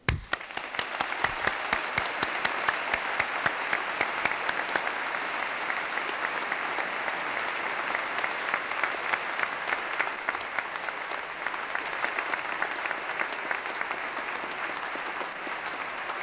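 A large audience in a great hall at a University of Edinburgh graduation applauds the graduates: sustained, even, thick clapping that carries on steadily for about sixteen seconds with hall reverberation.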